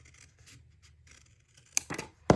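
Paper being cut with scissors while making a pocket for a handmade junk journal: a few soft snips early, then several sharp, louder cuts near the end, close up with no talking.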